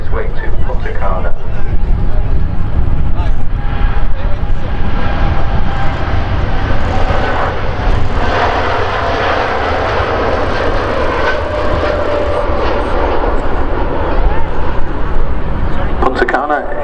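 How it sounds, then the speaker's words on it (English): A TUI Boeing 787-8 Dreamliner on its takeoff roll at Manchester Airport, a loud, close, continuous engine roar with whining tones, heavy low rumble and a voice talking over it. "Takeoff roll, Boeing 787-8 Dreamliner belonging to TUI, that's on its way to Punta Cana."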